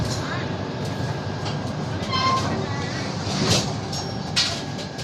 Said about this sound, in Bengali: চলো, ট্রেন ছেড়ে দিয়েছে।